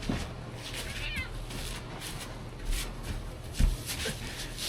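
A cat meows close to the camera indoors, a few soft meows with light shuffling between them and no talking.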